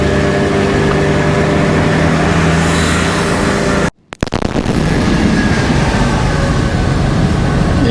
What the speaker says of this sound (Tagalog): Ayun, dumaan na ang train.